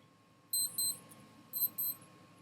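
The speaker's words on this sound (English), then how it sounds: "I set my alarm sometimes" A wristwatch alarm beeps in two separate bursts of quick, high electronic double beeps with a pause between them. It is fairly faint against a quiet indoor background.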